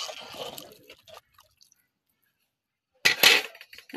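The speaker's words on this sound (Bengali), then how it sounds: "এখন জল দিয়ে দিছি।" Water poured into a cooking pot while making egg pulao: a short splashing, trickling burst, a pause of near silence, then a second louder gush of pouring and dripping.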